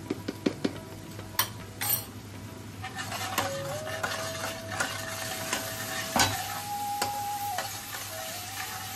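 Masala with chili powder, salt and a pinch of sugar sautés in oil for a chital fish belly curry. A few quick metal clinks open into steady close stirring and scraping over a continuous frying sizzle.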